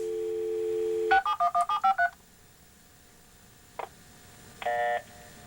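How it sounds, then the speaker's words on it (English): A 300 baud modem dials a phone number: a steady dial tone, then a quick series of eight DTMF tones, followed later by a short click and a brief tone. "We'll dial that by calling up a similar command. We'll dial 671-1753."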